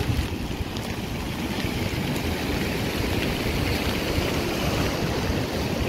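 Sea waves at Guhagar beach in rainy weather wash in as a continuous, dense roar of surf, steady and fairly loud with no voices.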